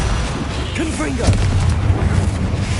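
A Confringo blasting spell from Hogwarts Legacy erupts in a deep boom with a burst of fiery rumble, loud and close amid busy game effects and short whistling tones.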